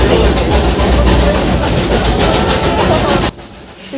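The Darjeeling steam toy train rumbles loudly and steadily with a heavy low drone and faint rhythmic clatter, then cuts out sharply near the end.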